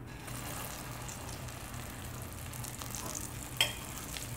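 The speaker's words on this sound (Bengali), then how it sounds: "আলুর ভর্তাটা দিয়ে আমি তেলের সাথে ভালো করে নেড়ে চেড়ে মিক্স করে নিব" Mashed potato fries in mustard oil in a pan while being stirred, giving a faint, steady low sizzle with a soft scrape near the end.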